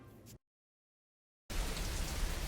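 Steady rain falling, a dense hiss of drops that cuts out briefly into silence before returning louder and close for the rest of the moment.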